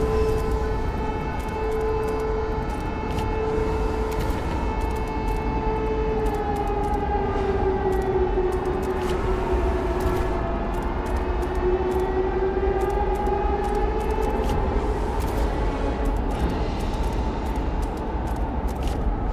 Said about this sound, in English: Yep, and then there's the siren.